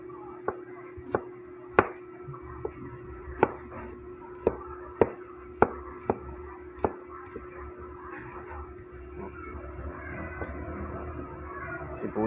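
An onion being chopped with a knife in a home kitchen, roughly a dozen sharp, irregularly spaced blade strikes on a board, close up against a low background hum.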